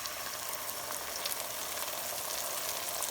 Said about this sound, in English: this was about a minute of my garlic frying in low oil, and I stirred a few times, adding the sauce mixture